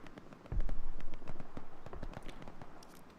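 A transport truck explodes in the Hell Let Loose video game, set on Omaha Beach, with a sudden muffled boom followed by crackling, popping debris and scattered sharp snaps that fade over a few seconds.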